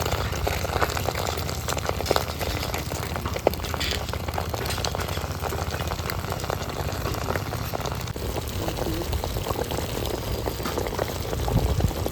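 Pieces of a large fish fry in hot oil in a wok at an outdoor family picnic, giving a dense, steady sizzle and crackle like heavy rain that runs unbroken throughout.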